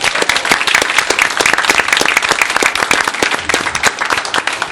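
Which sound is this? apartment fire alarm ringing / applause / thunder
applause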